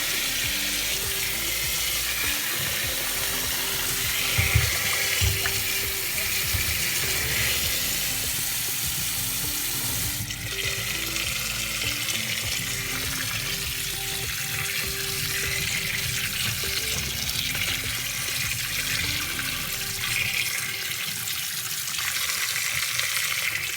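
Cold tap water runs steadily over freshly boiled eggs from an electric egg cooker, a continuous splashing rush into a sink with no talking.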